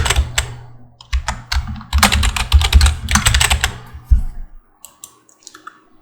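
Fingers type on a computer keyboard, with close, crisp rapid clicks in bursts that thin to a few scattered keystrokes and then near silence.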